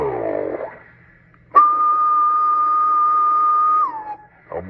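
A single steady whistle tone holds for about two seconds, then bends downward and stops, whistled into the microphone of a Galaxy DX 93T CB radio on upper sideband, with a hissy background.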